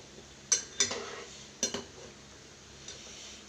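A utensil scrapes and knocks against a pan while fish egg curry is stirred and mashed in oil. There are a few sharp clinks in quick pairs, then quieter scraping over a soft background bubble.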